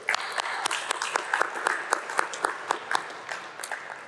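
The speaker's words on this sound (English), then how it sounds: "we're gonna give them some applause" Audience applause at an awards ceremony, a steady wash of many hands clapping at moderate loudness with sharper individual claps poking through, continuing alone without talk.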